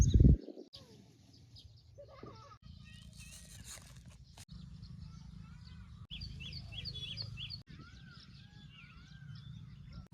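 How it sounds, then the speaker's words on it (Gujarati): Peacocks and koels call repeatedly over a low, steady background hiss on a Gujarat farm, with bright chirps and whistled notes scattered throughout and a brief louder thump at the start. "પક્ષીઓ બોલે છે મોર બોલે છે કોયલ બોલે છે સરસ મજાનો પક્ષીઓનો અવાજ આવે છે"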